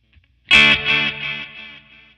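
A single guitar strum through a Flamma FS03 delay pedal, a bright chord that rings out and decays with a smeared, repeating echo tail, heard alone.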